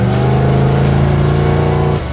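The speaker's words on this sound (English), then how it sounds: "MagnaFlow exhaust with electric cutouts. Quiet becomes chaos." A 1934 Ford three-window coupe with MagnaFlow exhaust and electric cutouts open revs hard, holding a loud, steady, close engine drone with no voices before dropping off abruptly at the end.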